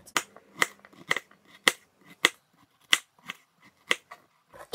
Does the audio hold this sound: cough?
no